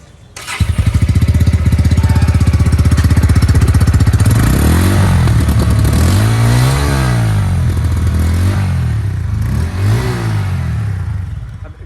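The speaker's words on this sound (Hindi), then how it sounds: "P150 में भी आपको एग्जॉस्ट जो रहेगा भाई अंडर बेली है।" A Bajaj Pulsar P150 motorcycle with an underbelly exhaust idles loudly close by with a steady thumping rumble, then revs up and down several times in rising and falling throttle blips.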